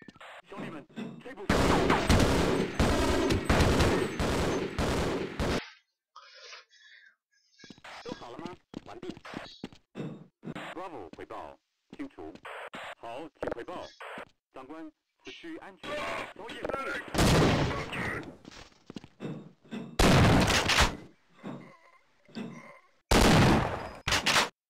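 Automatic M16 or M4 rifle fire in the game Half-Life, coming in several loud, dense bursts spread across the stretch with quieter gaps between, while someone talks over parts of it.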